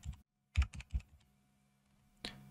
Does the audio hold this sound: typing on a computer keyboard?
yes